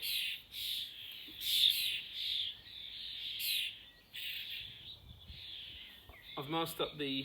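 Repeated high chirps and calls from several birds, moderately distant, with a brief burst of other sound near the end.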